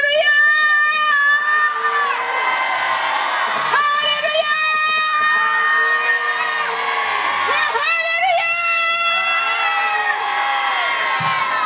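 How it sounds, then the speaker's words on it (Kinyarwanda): A church crowd cheers and ululates in praise to God. High, warbling trills and shouts overlap loudly and steadily, forming a dense, continuous wall of joyful voices. "amashimeshi n'impundu ku Mana"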